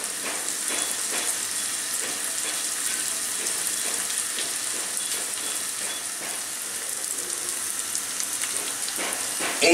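Sliced onions sizzle and fry in an oiled kadai for a hilsa fish dish, a dense, continuous crackling hiss, close and steady, with no talking.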